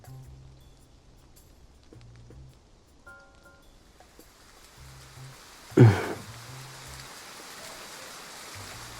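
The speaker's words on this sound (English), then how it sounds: "Is it actually raining?" Steady video game rain hiss fills the scene, with a brief louder splash burst midway and soft low tones underneath.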